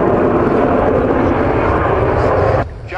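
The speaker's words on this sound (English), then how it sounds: "Vulcan's Olympus engines coming on there" Avro Vulcan bomber's Rolls-Royce Olympus jet engines roar at an airshow, a loud, broad, sustained rumble and whoosh that drops off sharply near the end.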